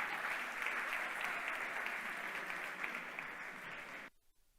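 Audience applause at a hackathon closing ceremony, a dense steady wash of many hands clapping that carries on for about four seconds and then stops abruptly.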